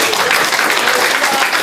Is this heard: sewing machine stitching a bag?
no